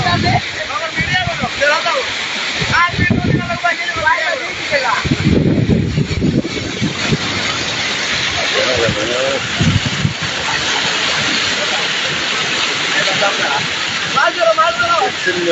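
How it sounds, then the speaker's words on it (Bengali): Floodwater about ten cubits deep rushes through Radhapur village, a loud, continuous roaring wash of water heard under the excited talk of several people throughout. "পানি প্রায় 10 হাত বেশন হয়ে পানি চলতেছে"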